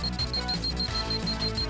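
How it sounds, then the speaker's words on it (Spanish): Rapid electronic alarm beeping from a Dragon Ball scouter, a steady high-pitched repeating tone over a dense musical background, fairly loud and continuous. "Es la señal de alarma."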